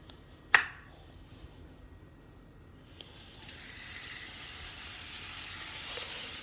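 A steak is laid into a pan of hot butter with a sharp click, followed by a quieter pause and then a steady, loud, hissing sizzle that builds and holds to the end.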